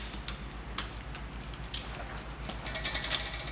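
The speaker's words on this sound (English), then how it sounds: "you've got a torque wrench with a ratchet on it" A torque wrench with a ratchet tightens the bolts of a two-bolt microadjust bicycle saddle clamp, giving close, sharp ratcheting clicks at an uneven pace over a low steady hum, with a quick flurry of clicks near the end.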